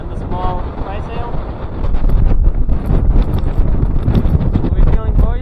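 Strong wind buffets the microphone aboard a sailboat running with two reefs and a small trysail, a steady roaring rush that swells louder midway, with a voice talking briefly over it.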